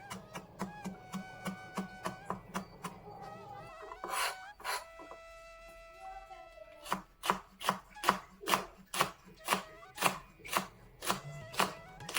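A knife chops ginger and green chillies on a board in quick, regular strokes close by, pausing briefly midway before resuming a steady rhythm.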